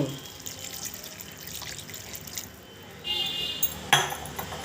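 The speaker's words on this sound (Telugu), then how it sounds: "ఇప్పుడు ఒక గ్లాసు పాలని ఇందులో యాడ్ చేసుకుందాము" A glass of milk is poured into a ridge gourd curry cooking in a pan, giving a soft liquid splash and trickle near the end against a quiet kitchen background.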